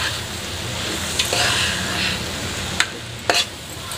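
A spoon stirs masoor dal in a pan, soft scraping under a gentle sizzle, with a few sharp clinks against the metal near the end.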